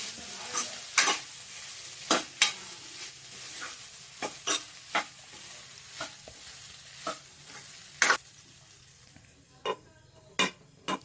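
Okra (bendakaya) fry being stirred in a pan at home, with a dozen or so sharp, irregular scrapes and clinks of the spoon against the pan over a faint sizzle.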